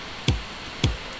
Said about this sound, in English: So it starts off with a kick.